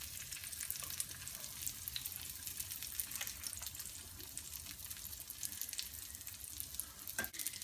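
Fish fries on a flat tawa in a Lahori-style recipe, giving a quiet but constant sizzle with small pops and crackles throughout and no voices.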